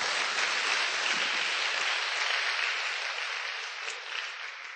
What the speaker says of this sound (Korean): 우리 하나님께 기대하는 박수를 한번 올리고 강의를 시작하겠습니다